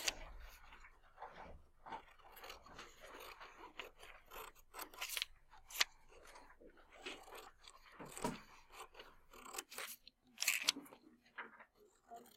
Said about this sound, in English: you are going to just cut on this dotted line